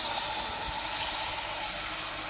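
Ground tomato paste hits hot oil and spices in a pan for a chicken curry, giving a steady, close hissing sizzle throughout.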